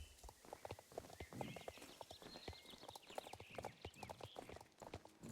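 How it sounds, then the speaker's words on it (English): Horse hooves clip-clop at a steady walking rhythm in the Star Stable Online game, moderately close and continuous over faint background sounds. "Oh, you got the purple horse now."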